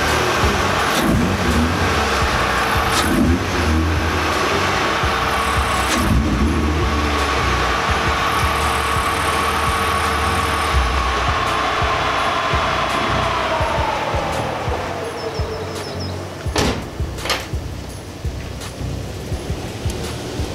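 A BMW E36 drift car drives hard and revs close by, a loud continuous engine roar with rising and falling pulls that eases off toward the end.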